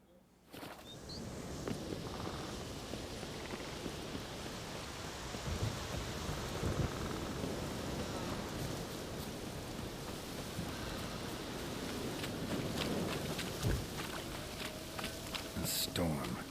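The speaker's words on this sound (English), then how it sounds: "A storm, damn it." A steady wash of rain hisses through a thunderstorm in The Witcher 3, with low rumbling thunder swelling and fading beneath a voice talking.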